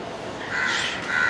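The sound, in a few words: crow cawing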